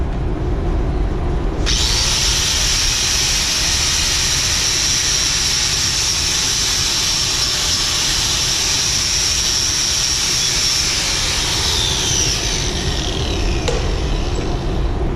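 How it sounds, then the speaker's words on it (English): A wire wheel on a power tool grinds out a weld on steel pipe, a loud, steady high-pitched whirring rasp that starts abruptly and runs unbroken for over ten seconds before easing off near the end. "let me go ahead and get a wire wheel and bust this weld out so you can see"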